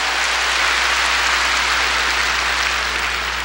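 A church congregation claps together during a 1992 Sunday worship service; dense, even clapping fills the whole stretch at a steady level over a low hum, with no voices.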